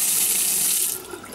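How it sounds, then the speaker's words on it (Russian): A kitchen sink tap in a rented apartment runs with a steady, close hiss of flowing water that eases slightly near the end, with no talking. "Вода хорошо бежит, и горячая, и холодная."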